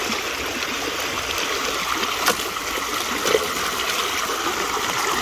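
Rushing water pours steadily during a tropical depression, a constant broadband roar with no break and a couple of small splashy spikes, close and fairly loud throughout.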